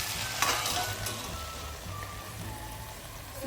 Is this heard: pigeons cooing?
no